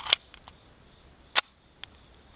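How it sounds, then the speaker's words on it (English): .45 ACP pistol loaded with 250-grain rounds fired at about 15 yards over a chronograph: a few sharp, isolated cracks spaced over two seconds, brief and fairly light, with no talk. "And we're shooting from about 15 yards."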